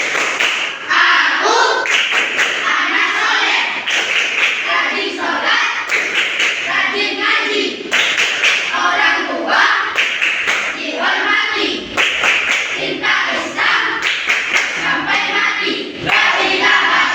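Schoolchildren in a classroom perform the 'tepuk anak soleh' clapping chant, loud rhythmic clap patterns alternating with shouted chanted lines, repeating in bursts across the whole stretch, close and energetic.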